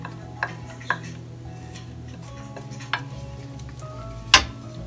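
A low, steady sizzle from a pan with garlic and onion, broken by a few sharp clinks of a utensil against the pan and one louder knock near the end.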